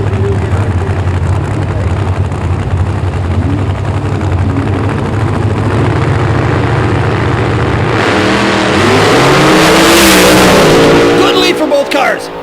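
Two drag race cars sit in a loud, rumbling idle, then launch together into a rising, roaring acceleration that swells to full volume near the end, with a voice faintly under the engines.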